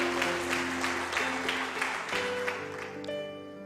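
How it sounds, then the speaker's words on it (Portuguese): A church congregation applauds in worship, a brief, moderately loud patter of clapping over sustained instrumental or organ-like tones, quieter and settling by the end. "Forte aplauso ao Senhor Jesus."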